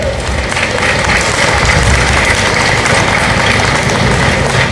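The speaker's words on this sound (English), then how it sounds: "thank you for your attention and your applause" A large outdoor audience at a Dixieland jazz festival applauds a band, loud continuous clapping with crowd murmur, dense and unbroken throughout.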